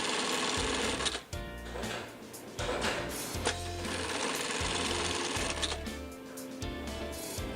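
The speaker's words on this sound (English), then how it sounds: "I'm going to go ahead and sew the 3 layers." Home sewing machine stitching through three layers of a dog leash with contrasting thread, a steady, close, rapid mechanical chatter running almost continuously with brief pauses and shifts in pace.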